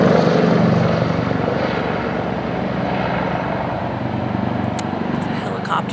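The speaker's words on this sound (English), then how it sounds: "It's a helicopter." A helicopter flying overhead gives a loud, steady rotor and engine drone that lasts throughout, with faint higher clicks near the end.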